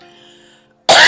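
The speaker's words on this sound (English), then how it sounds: "Let me clear my throat." A man clears his throat once, loud and close, in a short harsh burst that comes after a stretch of faint low murmur.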